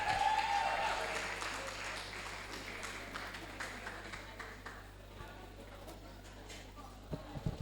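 Audience applause after a presentation on vaccination, clapping that starts fairly strong over a low electrical hum and thins to scattered claps toward the end.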